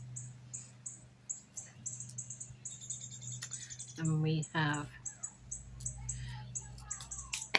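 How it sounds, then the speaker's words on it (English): Bird calling in a repeated rapid clicking, tapping pattern like a telegraph key, faint and steady in the background under a steady hum, with a brief burst of nearby talk partway through. "That is a bird that you're hearing. Sounds like it's almost like a telegraph"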